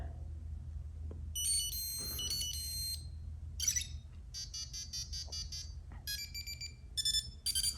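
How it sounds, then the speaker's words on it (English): Thin, high-pitched electronic beeps from an iPod Touch's sound-emitting diode play in short melodic bursts, a tinny chiptune-like ringtone repeating several times over a low background hum. "those ringtones made this iPod Touch sound like an old Game Boy"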